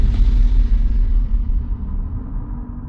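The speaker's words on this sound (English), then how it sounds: "several sonic booms" Several sonic booms play from a recording in a film, a loud deep rumbling blast whose low roar rolls on and slowly fades out, alone without talk.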